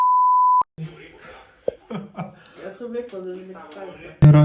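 A phone switching on gives a loud, steady electronic beep at the start, then speech follows and another tone cuts in near the end.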